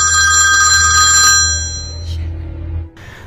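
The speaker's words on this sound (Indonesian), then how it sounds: "telepon ibunya pun berdering dan si Charlie langsung menutup teleponnya." A telephone ringing in a house: a loud electronic ring tone with bright, sustained tones, cutting off after about a second and a half and followed by a quieter low hum and faint noises.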